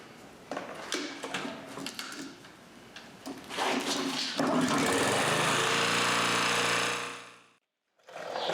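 A DR string trimmer engine after a valve adjustment, with irregular knocks and handling noises first, then the small engine running loud and steady up close before it cuts out sharply and restarts.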